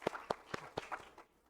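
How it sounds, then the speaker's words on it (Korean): A church congregation claps in a short, sparse patter of separate hand claps at a moderate distance, fading out within about a second. "하나님께 큰 영광의 박수 한번 올려드리겠습니다"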